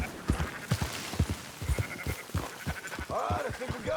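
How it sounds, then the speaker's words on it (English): Sheep bleat repeatedly in Red Dead Redemption 2, a herd of wavering calls overlapping at close range, with a voice speaking over them. "Marston, why don't you leave the sheep to me?"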